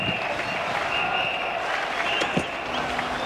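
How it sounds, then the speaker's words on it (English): Cricket crowd applauding at the Sydney Cricket Ground during a one-day match between Australia and South Africa, a dense sustained wash of clapping from a large stadium audience with commentary voices over it. "a very appreciative Sydney crowd"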